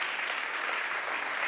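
Applause at an academic online lecture, a steady, fairly faint rush of clapping hands, continuous and without voices.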